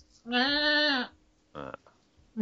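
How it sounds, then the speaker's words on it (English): A goat bleat from the video game Goat Simulator, one long, loud, wavering bleat followed by a shorter, choppier second call. "I've always thought that sounded like a bit of a sheep or a goat."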